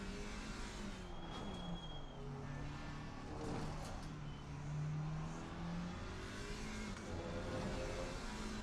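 Pack of racing cars lapping the Barcelona circuit: overlapping engine notes rise and fall as cars rev, shift and pass close by, a continuous moderately loud drone of several machines with no speech.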